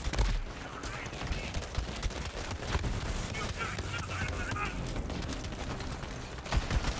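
Enemy gunfire in the shooter game Borderlands 3, a steady dense stream of rapid shots and impacts running continuously throughout, with a louder burst near the end.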